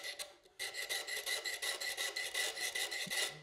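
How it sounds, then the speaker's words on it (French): A cutter blade scraped firmly along fluorocarbon fishing line, a close, rasping series of quick repeated strokes in a steady rhythm, with no talking. "On va passer une lame de cutter"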